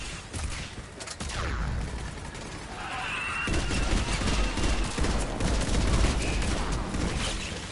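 Missiles fire in a Mass Effect 3 Legendary Edition battle, a dense rolling fusillade of whooshes and blasts that grows louder and fuller halfway through and keeps up steadily to the end.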